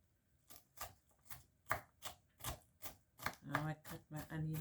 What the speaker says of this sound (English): I'm gonna cut the onion now